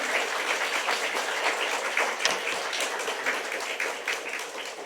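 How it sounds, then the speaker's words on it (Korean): A church congregation applauds warmly to welcome the pastor to the pulpit at a farewell service. The clapping is broad and sustained, fills the room and fades slightly toward the end. "나오실 때 여러분 큰 박수로 감사합니다 목사님 애쓰셨습니다"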